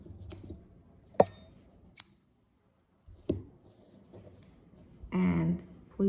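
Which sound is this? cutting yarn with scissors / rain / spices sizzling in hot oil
cutting yarn with scissors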